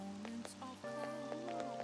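Steady rain hiss in Persona 5 Royal, falling evenly over the game's background music with tonal notes running throughout.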